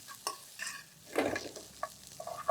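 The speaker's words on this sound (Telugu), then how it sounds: "ఇందులో కొద్దిగా ఎండుమిర్చి కూడా వేద్దాం." A couple of dried red chilies dropped into hot oil while cooking macaroni upma, giving faint, brief crackling sizzles and short stirring scrapes that come in separate bursts.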